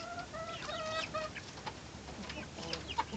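Several hen clucks in short, uneven bursts, close by, with faint scratchy background noise between them.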